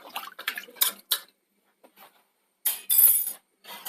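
Salt, chopped ginger and garlic are stirred into chickpea curry inside a pressure cooker, giving close, intermittent metallic clinks and scrapes separated by short quiet gaps.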